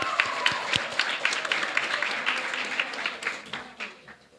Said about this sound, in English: we could give everybody one round of applause for their good participation